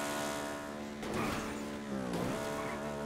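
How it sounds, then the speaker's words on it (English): A car engine in the GTA V roleplay game hums steadily at low volume, with brief surges and a short tire squeal in the middle, the tone shifting as the car moves. "I don't like the sound of this car."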